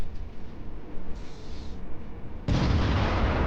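Sustained roaring rumble with a sudden, louder blast near the end as HIMARS rockets launch, thundering in the distance, with no voices.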